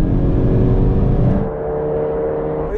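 A Mercedes-AMG E63 S accelerates hard in a drag race, a loud, close engine roar that drops in pitch and intensity partway through, as if during a gear change.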